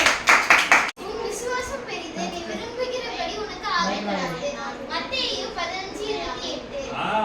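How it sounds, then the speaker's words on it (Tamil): A group of children at a Bible kids club clap their hands in a quick burst of rapid claps at the very start, then speech carries on over a busy room. "ஏசப்பாக்கு ஜோர கை தட்டுங்க"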